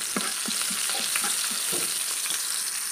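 Onion sautéing with pepper in a pan for a vegetable dish, a continuous bright sizzle with rhythmic scraping stirs close by, no voices.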